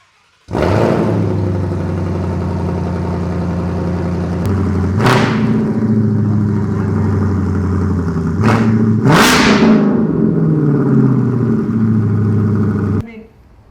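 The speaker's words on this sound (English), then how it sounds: "we're gonna start the car without the exhaust connected." A 2020+ Ford Mustang Shelby GT500 engine runs with its exhaust disconnected, a loud raw roar right after startup with three sharp revs, then drops off abruptly at the end.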